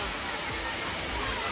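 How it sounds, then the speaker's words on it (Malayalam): Areeckal waterfalls roar as a dense, steady rush of falling water that fills the whole scene, loud and continuous, with faint voices mixed into the noise. "അരീക്കൽ വാട്ടർഫാൾസ് നമ്മളെത്തി."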